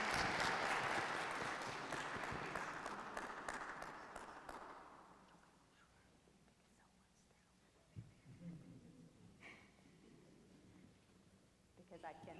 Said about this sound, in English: Let's give a round of applause to Magdes.